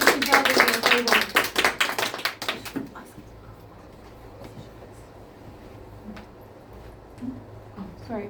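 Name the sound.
audience applause during a game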